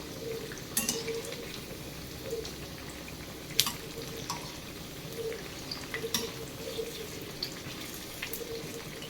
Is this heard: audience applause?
no